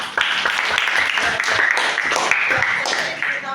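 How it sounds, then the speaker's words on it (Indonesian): A classroom group claps together in a quick burst of close, lively applause, with a voice speaking over the clapping. "Ya, tepuk tangan dulu buat begini."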